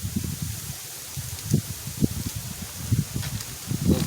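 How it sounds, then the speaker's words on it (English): Outdoor wind gusts through a woodland setting, producing a low rumbling buffet against the microphone in uneven surges over a faint steady hiss, with no voices present. "wind's kicking up now."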